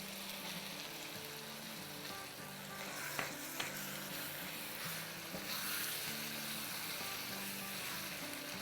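Mutton keema with yogurt sizzles and crackles steadily in a hot pan, with a couple of soft stirring knocks, close and continuous with no talking.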